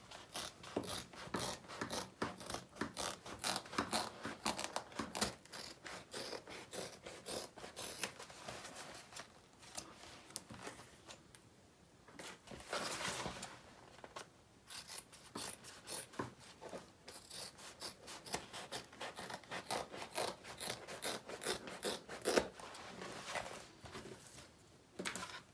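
Scissors trim excess seam allowance on a handbag, giving a fast stream of faint, close snipping and rasping clicks that runs almost without pause.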